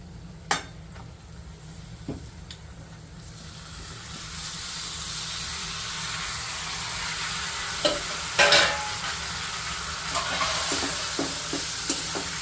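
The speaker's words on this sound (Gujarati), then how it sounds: "આને મસ્ત બરાબર હલાવી દઈશું." Grated bottle gourd, about 250 grams, stirred into sizzling oil in a pan, giving a steady hiss and frying crackle with a few sharp scrapes and clinks of the spoon against the pan, close and alone without any talk.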